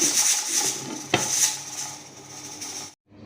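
A lid clatters onto a pot of biryani rice with one sharp metallic knock near the middle, set among faint scraping and kitchen clatter before the sound cuts off.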